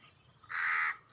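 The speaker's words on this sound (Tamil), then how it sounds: "காக்கா கரையுதுப்பார், என் தலைக்கு மேலே ஒரு காக்கா கரையுதுப்பார்" A single crow caws overhead outdoors, one drawn-out, harsh call lasting about half a second, clear and fairly close against quiet background.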